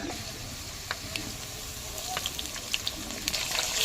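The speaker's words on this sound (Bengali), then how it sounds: "এবার চেরা কাঁচা লঙ্কাগুলি তেলের মধ্যে দিয়ে দেব" Slit green chillies sizzle in hot oil alongside fried potatoes, giving a steady, close frying hiss with scattered sharp pops and crackles throughout.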